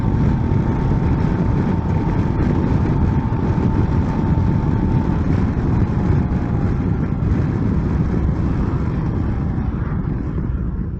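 Adventure motorcycle cruising in sixth gear at 60 mph and about 3,100 RPM, a steady loud drone of engine and wind rush with a faint whining tone, constant throughout.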